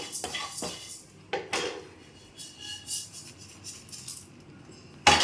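Roasted raw white rice for homemade sambar powder is tipped out of a hot pan in several short bursts, with a few sharp metallic clinks and scrapes of pan and utensil, close by and fairly loud against quiet kitchen background.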